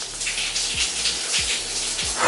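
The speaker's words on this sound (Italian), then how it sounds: "mio papà è in doccia" Shower running in a home bathroom, a steady broadband hiss of spraying water with a few low thumps, continuous and fairly close, no talking.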